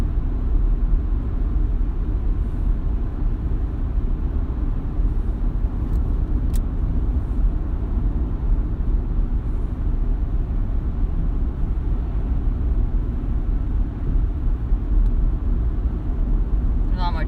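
Driving home from Princeton at night, the car interior fills with a constant low road rumble and engine drone, with passing traffic blending into the steady noise.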